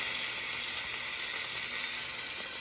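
Thick steak searing in a pan with plenty of olive oil gives off a steady, loud, even sizzle and hiss with no pauses and no voices.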